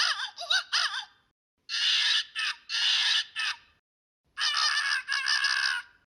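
Electronic marmoset chatter from the sound chip inside an Angry Birds Rio plush, a few quick squeaky calls followed by three bursts of harsh, buzzy screeching separated by silent gaps, clear and close.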